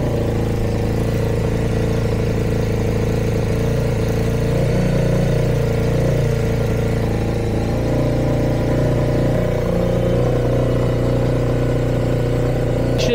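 A Zephir car engine runs steadily, held at about 3000 rpm, a loud constant drone with a slight swell in the middle and no talking over it.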